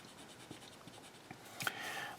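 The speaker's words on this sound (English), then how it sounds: "I better erase this guideline first" A pencil guideline is rubbed off paper with an eraser, giving soft, quiet scratchy strokes in a loose rhythm, ending in a brief louder rub, and no voices.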